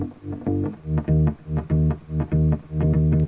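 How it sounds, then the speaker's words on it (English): A real bass guitar plays a tight, chopped bass line from a track, with steady, punchy low notes in a repeating rhythm, loud and alone. "Then you have the bass line, which is a real bass."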